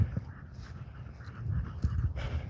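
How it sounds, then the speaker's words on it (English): A dog pants quietly nearby in hot weather, rapid soft breaths repeating over a low background hum. "You can hear how Goose is breathing."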